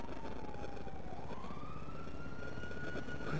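A wailing ambulance siren in GTA V glides steadily up and down in pitch over constant game background noise, loud and continuous with no talking.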